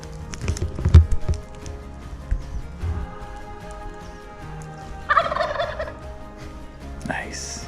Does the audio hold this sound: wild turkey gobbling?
yes